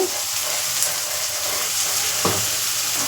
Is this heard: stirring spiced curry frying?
yes